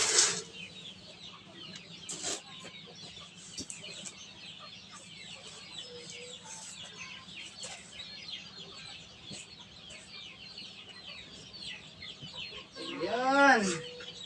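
Chicks peeping inside a homemade 110-egg incubator, many faint high chirps overlapping throughout amid farmyard clucking, with a louder burst of calls near the end.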